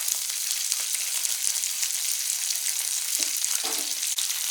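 Green chillies, ginger pieces and curry leaves frying in hot oil for a tempering, a constant close sizzle with a few sharp pops and faint stirring, no voices.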